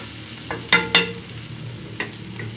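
Curry leaves hit a hot pan with onions, setting off a few sharp crackling sizzle bursts, two close together and a smaller one after, over a steady low frying hiss.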